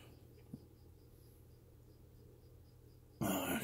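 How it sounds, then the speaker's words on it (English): Crickets kept indoors as feeder insects chirp faintly in a steady, evenly spaced rhythm against quiet room tone, ending abruptly in a loud burst of noise. "Crickets."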